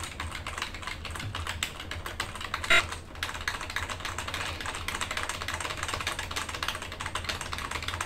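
Fast, continuous typing on a computer keyboard during a speed test, a dense patter of key clicks with one louder clack partway through.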